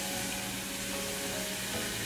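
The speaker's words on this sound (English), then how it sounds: "Let it roast until the onions get red." Chopped onions with bay leaves, ginger and garlic frying in oil for a goat curry, giving a steady, close hiss and crackle throughout with no talking.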